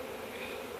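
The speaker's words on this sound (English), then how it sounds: "me and my son have gotten gently grabbed handfuls of these bees" Honeybees swarm inside a parrot nest box, giving a soft, continuous droning buzz from many insects at once. The sound is brief and quiet, and no one speaks.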